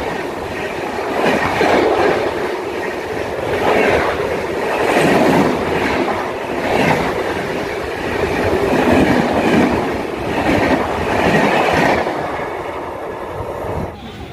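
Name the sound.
inside a moving train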